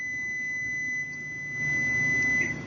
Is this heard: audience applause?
no